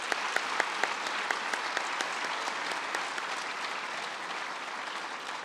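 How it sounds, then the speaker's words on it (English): An audience in a conference ballroom gives a steady round of applause for a professor, moderately loud and continuous, with a few sharper individual claps standing out near the start before it gradually softens. "Another round of applause for the professor."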